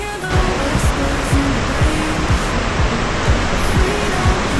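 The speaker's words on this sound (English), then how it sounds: "The waterfall has a drop of about 30 feet." Steady, dense rush of a roughly 30-foot Colorado waterfall fills the clip evenly from start to finish, loud and close with no voices.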